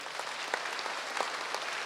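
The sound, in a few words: audience clapping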